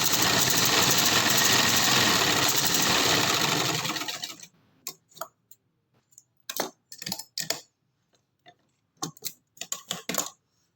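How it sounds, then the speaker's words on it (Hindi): A sewing machine stitches the side slit of a kameez: a loud continuous whirring run for about four seconds, then a series of short, clattering stitching bursts separated by pauses. "थोड़ी सी मैंने सिलाई लगाई और बाद में इसको मैं वहां से पीछे ले गई"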